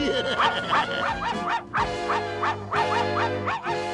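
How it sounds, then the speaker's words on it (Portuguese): A cartoon dog barks repeatedly in quick bursts in a forest, fairly close, with short gaps between volleys and a whimpering edge to some barks. "Tem um cachorro na floresta."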